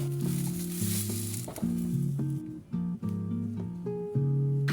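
Beaten egg for an omelette sizzles in a hot frying pan in a home kitchen, a bright crackling hiss heard most clearly at first and then softer beneath a melodic music track.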